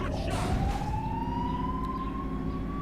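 A police car siren in the video game The Godfather II wails with a single rising tone over a continuous engine and traffic rumble, fairly close and steady, without talking.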